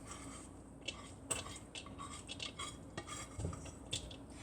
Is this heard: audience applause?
no